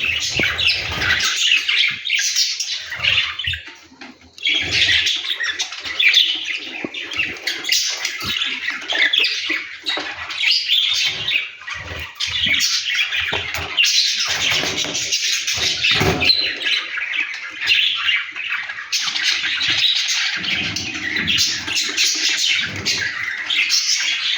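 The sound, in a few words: budgerigars squawking in an aviary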